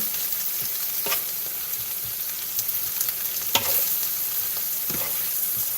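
Squash cooks in butter in a pan, a steady soft sizzle with occasional sharper clicks and scrapes from stirring, close and alone without talk.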